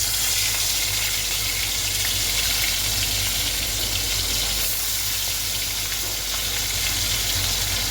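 Fish frying in a pan, a dense, loud, continuous hiss of hot oil that holds steady from start to finish, close up with no talking.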